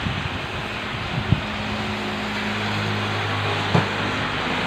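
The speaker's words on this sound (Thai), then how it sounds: "โอ้ลมแรง" Strong storm wind during a typhoon in Taiwan roars steadily as broad, constant noise with microphone buffeting, a low steady hum underneath and a couple of brief thumps; no one speaks.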